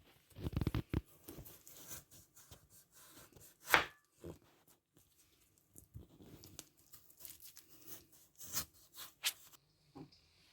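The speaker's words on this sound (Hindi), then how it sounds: "अब मैं आलूओं को काट लेती हूँ।" Potatoes being cut into thin slices with a knife in a home kitchen, a run of soft, irregular chopping taps near and quiet, with brief pauses between bursts and no talking.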